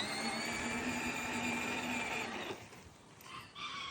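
A twin-motor Power Wheels ATV running on a Milwaukee battery gives a steady electric motor whine for a couple of seconds, then cuts out and returns briefly in short bursts.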